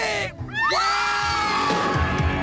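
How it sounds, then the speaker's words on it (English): Festival crowd at Lollapalooza 1993 screaming and cheering on cue, a loud sustained wall of voices with rising shrieks and whoops after a brief dip, dense and close throughout. "Now scream!"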